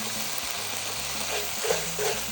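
Garlic with onions and red and yellow peppers sautés in a pan, a continuous close sizzle and crackle with a few stirring scrapes over it.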